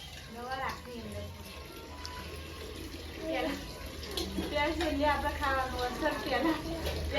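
Water runs steadily throughout, with splashing and scrubbing of radishes being washed, while people talk over it.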